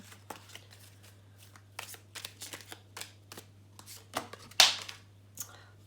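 A deck of tarot cards is shuffled by hand in a quiet room, a series of soft riffles and sharp card snaps in irregular bursts, with one louder slap near the end; no one speaks.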